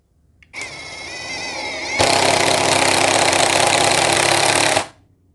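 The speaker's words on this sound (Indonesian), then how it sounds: "Untuk penyekrupan menggunakan mode low. Dengan low RPM, paling low-nya di 600 RPM." Kamolee 20 volt cordless impact driver in low mode, about 600 RPM, driving a screw into undrilled material: a high motor whine steps up into a loud, steady hammering rattle for around three seconds, then cuts off.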